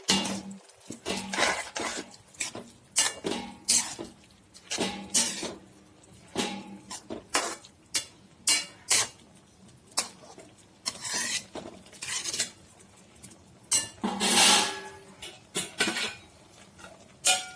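A metal spoon scrapes and clinks against a cooking pot while sarvani theeyal vegetables, including boiled koorka (Chinese potato) and okra, are stirred, in irregular clattering strokes with short pauses between them.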